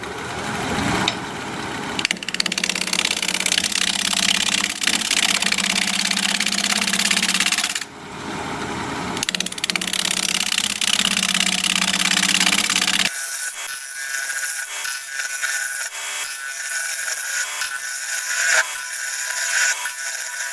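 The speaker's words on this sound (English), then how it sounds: "We're going to be turning at 1000 RPM, 5/8 inch bowl gouge, mask and face shield on." A wood lathe spins an apricot bowl at 1000 RPM while a 5/8 inch bowl gouge cuts, giving loud, continuous scraping and hissing in long passes with brief pauses, then a thinner, quieter whirring.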